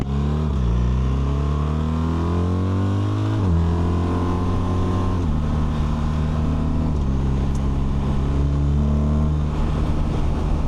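A 2026 BMW R 1300 RT motorcycle pulls away from a traffic light, its engine loud and close as it climbs through several gears, each upshift marked by a brief drop in pitch before the revs rise again.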